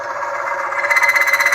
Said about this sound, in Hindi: आप फ्रिक्शन की साउंड सुन पा रहे हैं